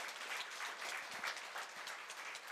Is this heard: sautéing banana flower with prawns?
no